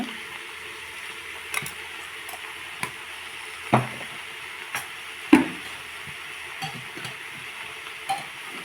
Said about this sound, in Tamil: நல்லா கிளறி விட்டுக்கோங்க இந்த மஞ்சத்தூள் மிளகாத்தூள் கலர்ற மாதிரி நல்லா கலக்கி விட்டுக்கோங்க